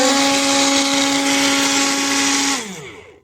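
A small MIAOKE six-blade portable blender motor whirs at a steady high pitch with a gritty churning hiss, then winds down as it switches off.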